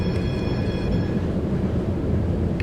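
An empty stock tram in Tramsim runs steadily with a continuous low rumble and rolling noise, constant in level throughout with faint high tones above.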